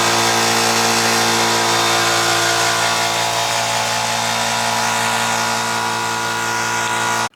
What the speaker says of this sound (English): that was the little air compressor we're using